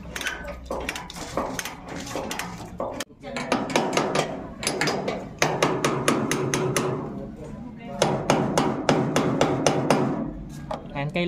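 Metal hammer blows knock a stuck part loose on a Honda TMX 125 Alpha motorcycle with sidecar, repeated loud clanking strikes in irregular bursts with brief pauses, close by, with a little speech mixed in.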